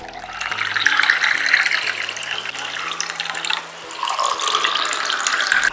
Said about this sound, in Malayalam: ഇത് നമുക്കൊരു ഗ്ലാസ്സിലേക്ക് സെർവ് ചെയ്യാം